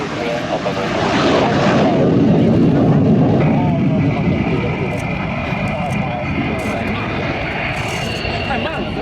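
A Mikoyan-Gurevich MiG-15UTI jet trainer at an air show, its loud sustained engine roar swelling as it passes and then holding steady over crowd noise.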